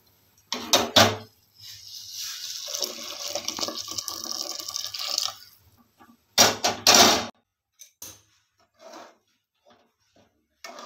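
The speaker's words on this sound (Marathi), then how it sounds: "आता यामध्ये उकळलेलं पाणी टाकायचं." Boiled water is poured into a pressure cooker over coconut rice with jaggery and cardamom, a steady splashing pour of about four seconds. A couple of metallic clanks come before it and after it, then quieter scattered kitchen knocks follow.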